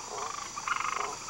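Poison dart frogs croak in a dense rainforest chorus, a rapid pulsing trill that swells briefly over a steady background of insects and forest hum.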